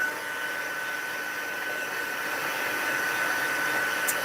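A heat tool blows steadily on watercolour card, a constant loud airy whoosh that holds without pause, close to the mic.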